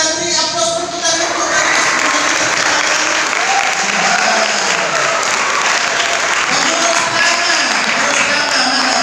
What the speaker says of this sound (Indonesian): kita beri aplaus untuk kami